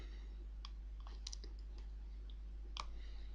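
A computer mouse clicks a few times at close range, faint light taps over a steady low hum, with no talking.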